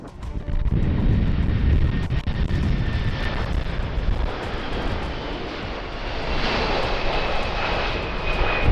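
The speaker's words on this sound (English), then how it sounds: "The crew immediately corrected the aircraft attitude and made a safe go around to try to land again later." A Boeing 747 jumbo jet going around over the runway in rough weather makes a loud continuous engine roar, close and heavy, with a whining edge that grows toward the end.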